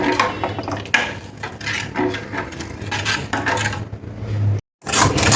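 Milk stirred steadily in a pot on a gas stove while being cooked down for homemade ice cream, a continuous close scraping and clinking with a brief silent break near the end.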